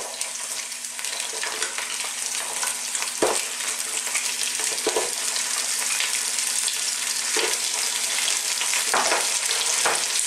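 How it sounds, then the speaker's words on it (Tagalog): Mussels go into a pot of tinola soup, giving a steady sizzling hiss throughout with occasional soft knocks of shells and stirring, close and even, with no talk. "ilalagay na natin yung ating tahong"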